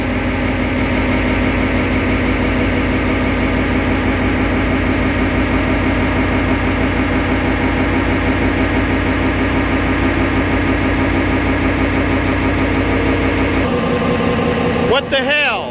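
A 1992 Ford Econoline van's engine idles in a steady, loud mechanical drone with a pulsing low hum that holds throughout and shifts abruptly just before the end.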